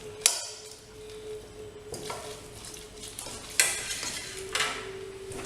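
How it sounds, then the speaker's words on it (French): A spoon stirs duck confit ingredients, including onion, in a cast-iron cocotte, with a few scraping strokes and clinks against the pot over a faint steady sizzle, heard up close without talk. "Je mélange tout cela."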